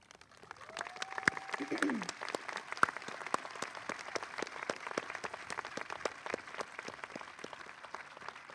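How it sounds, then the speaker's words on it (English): Steady, fairly faint applause from a graduation audience honoring local scholarship recipients at a high school commencement ceremony, a crowd of clapping hands in a large hall, with a brief voice near the start. "stand and face the audience for a round of applause"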